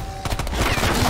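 A grenade launcher fires in a zombie shooter video game, a short loud blast with a rumbling burst that fills the whole moment, heard close and alone.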